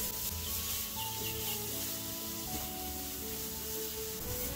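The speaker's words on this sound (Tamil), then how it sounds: "இதை லேசாக ஈரப்பதம் போக வதக்கிக்கோங்க" Finely grated carrot sautéing in a pan, a soft continuous sizzle and scraping rustle as it is stirred, fairly quiet and steady with no voices.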